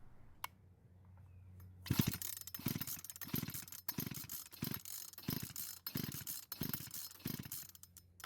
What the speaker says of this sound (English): just install it in line with the spark plug, pull the rope a few times, and watch for an orange glow in the tester